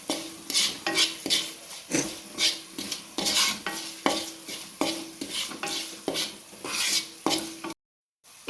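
Chili powder roasting briefly in a pan for a vegetarian pickle, stirred with a utensil that scrapes and clinks in a steady rhythm of strokes over a soft sizzle, loud and close, with no talking.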